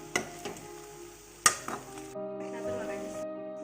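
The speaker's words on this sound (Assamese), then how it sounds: "মই অলপ লৰাই দিম।" A spoon knocks and scrapes against a pan while chicken curry with tomato sauce is stirred, with a few sharp clinks and soft sizzling in between, close and fairly quiet.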